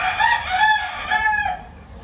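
An American game rooster crows once at a ranch, a loud, close cock-a-doodle-doo lasting under two seconds and then trailing off.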